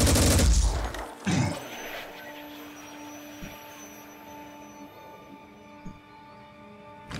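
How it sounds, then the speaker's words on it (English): Weapon fire in the video game Phoenix Point: a loud burst of gunfire opens the clip, a second shot follows, then a few faint distant thumps over a steady electronic hum. "Preparing to fire."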